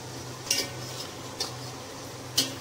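Potatoes tossed and stirred in a pan of yogurt masala for aloo biryani, three brief metallic scrapes and clinks of a spoon against the pan spaced about a second apart, over a low steady background hum.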